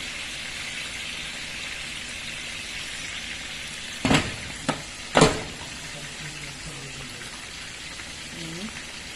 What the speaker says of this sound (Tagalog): Yan na yung final na dagdag niya ng ininit tubig para sa sabaw.